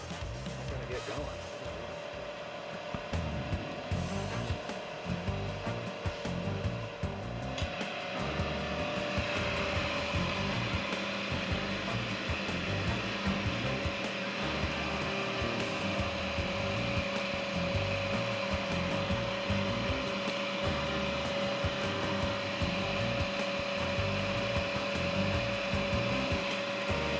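A rotisserie motor turns a ham for a candy glaze recipe, giving a steady, moderate hum with a constant tone that settles in after a few seconds, while a person talks over it.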